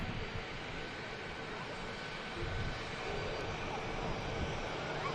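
Qatar Airways jet taxiing out behind an EasyJet plane at Manchester Airport, a steady broad engine roar holding level throughout with no voices.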